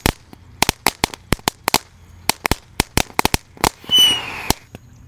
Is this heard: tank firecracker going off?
yes